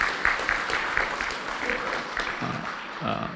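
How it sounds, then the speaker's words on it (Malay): Applause breaks out for the organising committee at a tenth-anniversary launch ceremony, a steady wash of clapping with a voice audible underneath. "Kita berikan tepukan sikit pada AJK yang bertungkus lumus."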